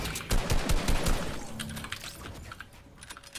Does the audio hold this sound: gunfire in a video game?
yes